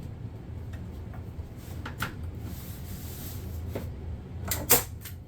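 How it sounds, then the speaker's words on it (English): A hand stapler drives a single staple through fabric into a wooden stool seat during reupholstery, giving a few sharp clicks and one louder snap near the end over faint room noise. "I'll show you how the hand stapler works for one staple."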